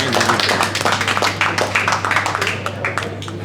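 An audience applauds at a Malaysian athletics association gathering, rapid close clapping over a steady low hum.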